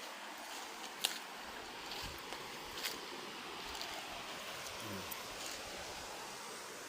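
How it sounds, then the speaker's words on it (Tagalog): Broad, steady rush of river water at a swimming spot, a constant soft wash of noise with a few faint splashes and clicks over it, no clear voices. "Ito po yung ilog niya."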